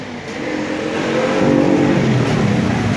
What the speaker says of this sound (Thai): มีรถแข่งกันด้วย คือไฟแดงเป็นสัญญาณปล่อย เอ้าแข่งกันก็วิ่งปุ๊ดแข่งกันออกมา